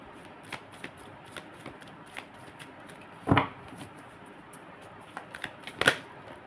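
Tarot cards being shuffled by hand, with soft riffling taps in an irregular rhythm and two louder, fuller shuffles, close and quiet, with no talking.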